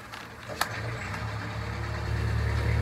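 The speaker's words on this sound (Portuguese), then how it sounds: "Eu te deixo passar primeiro o trator, que como vocês sabem, eu moro numa fazenda." A farm tractor passes close by, its low, steady engine rumble running throughout and growing slightly louder toward the end, with no talking.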